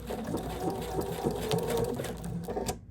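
A sewing machine stitching through thick Sherpa fabric, a close, steady rapid needle patter that runs continuously and stops abruptly at the end.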